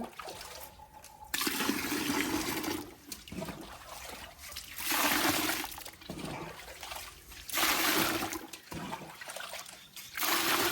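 Water poured in a strong, splashing stream over soaked kitchen waste being prepared as compost, coming in several surging bursts with brief pauses between them, close and fairly loud, with no talking.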